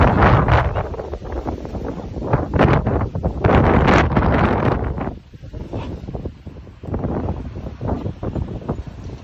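Strong gusting wind buffets the microphone during a short holiday bike ride near Santa Rosa, a loud continuous roar with bursts and a brief lull midway, no voices.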